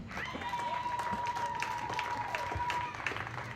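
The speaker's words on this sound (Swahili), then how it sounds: "Kama wote tumeokoka, basi tumpe Yesu makofi" A large crowd at an outdoor evangelistic crusade applauds in a dense, continuous wash of clapping, with a sustained musical tone and faint voices rising over it.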